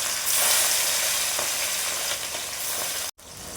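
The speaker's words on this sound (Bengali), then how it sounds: "এরপর আমি কাটা মাছগুলো একটা করে ভাজবো" Steady loud sizzling of cut fish frying in hot oil in a wok, with a slight scrape partway through and a brief cut near the end.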